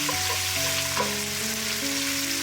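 Pork rib kaldereta, Filipino style with liver spread, simmers in a pan with a steady, even sizzle and bubbling that holds at a constant level, with soft tonal sounds layered over it.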